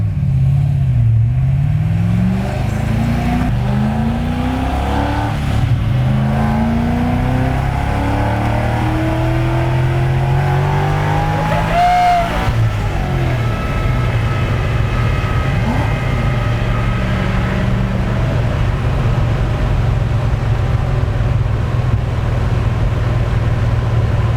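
A drag race car launches and accelerates hard down the strip at Toronto Motorsports Park, its loud engine rising steadily in pitch through repeated gear changes over about twenty-four seconds, heard close and alone.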